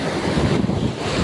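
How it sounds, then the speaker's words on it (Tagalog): Sea waves wash at Bolinao Beach in Pangasinan, a loud, continuous rushing surf mixed with heavy wind buffeting the microphone. "Pansin nyo yung alon yung tubig"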